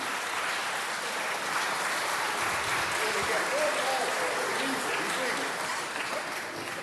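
Applause fills a city council meeting chamber, a broad, sustained wash of clapping at steady loudness with faint voices mixed underneath.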